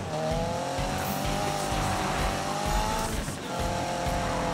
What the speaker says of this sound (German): Es ist wirklich Drift